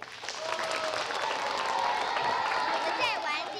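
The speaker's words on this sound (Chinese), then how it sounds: "好，先给他们拍拍手" Children clap their hands in a lively group during a classroom game on a kids' television show, with steady massed clapping mixed with excited young voices and chatter.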